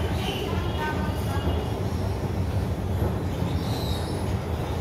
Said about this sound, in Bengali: এখন আমাদের ট্রেন আছে জনশতাব্দী এক্সপ্রেস ধরবো।